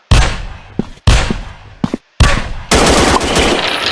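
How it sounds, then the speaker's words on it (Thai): Rapid gunfire in an online survival video game, bursts of shots aimed at the player, loud and close, coming in choppy volleys with brief gaps and a denser sustained burst at the end. "นี่ไงมันยิงผมละยิงผมละ"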